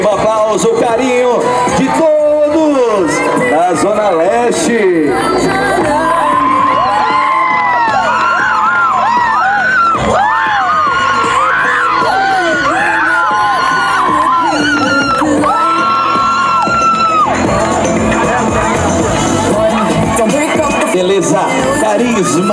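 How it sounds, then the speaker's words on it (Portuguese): A studio audience at a Brazilian TV variety show cheers, whoops and yells without pause, loud and dense, with voices and shouts layered throughout. "Receba aplauso, carinho."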